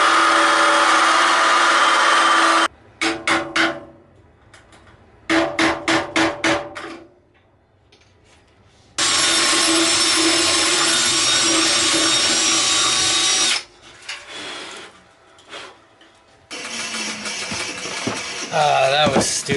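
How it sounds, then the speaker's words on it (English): A power drill with a hole bit bores into the underside of an owl gargoyle in several loud, close bursts of whining, grinding drilling separated by short pauses. "I'm gonna fight to bore out a hole on the underside of this thing"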